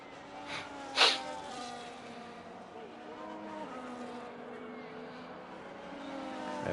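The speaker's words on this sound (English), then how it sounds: "So the Ferrari's just coming over around the last corner now" A Ferrari race car rounds the last corner of a circuit during pre-race grid formation, its engine a steady harmonic drone throughout, fairly distant, with a brief louder burst early on.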